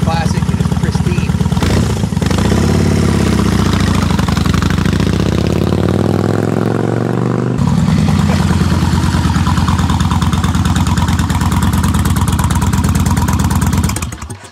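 A 2001 Kawasaki VN1500 Vulcan cruiser motorcycle idling loud and close with a steady, deep, throbbing engine note that briefly swells and settles around the middle, running continuously before cutting at the end.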